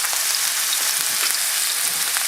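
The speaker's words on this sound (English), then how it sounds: "Going to the skillet. We got a little lard in there." Lard sizzles in a skillet, a steady loud hiss of frying fat with small pops and crackles scattered through, close and uninterrupted.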